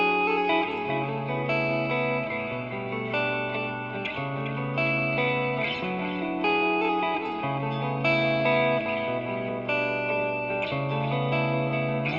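An electric guitar plays a repeating riff through a NUX NDD-7 tape echo delay pedal with reverb, each note echoing in delayed repeats and washing out into a reverberant tail, with steady volume throughout.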